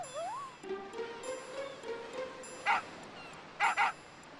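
Dog in the video game Final Fantasy 8 Remaster, a whimper followed by a few short yips and barks, clear and close with pauses between.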